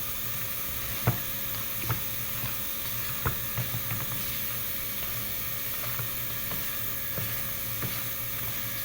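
Spice mixture of pepper, curry leaves and salt for mutton cutlet being stirred in a pan, with a low continuous sizzle and several sharp scraping clicks of the spoon spaced irregularly throughout.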